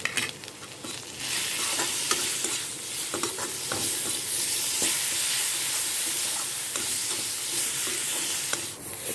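Ground ginger, garlic and chili paste fry in a pan for an Assamese curry, giving a steady loud sizzle with stirring scrapes throughout and no talk.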